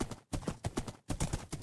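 Hoofbeats of a horse being ridden in Minecraft clip-clop in a quick, regular rhythm, close and distinct, with brief gaps between bursts and no speech.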